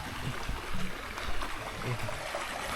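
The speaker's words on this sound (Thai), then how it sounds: "น้ำตกตรงนี้เรียกว่าน้ำตกดาวเดือนนะครับ" The Dao Duean waterfall at a Wang Nam Khiao campsite gives a steady broadband rush of falling water, close and continuous, with no clear voices.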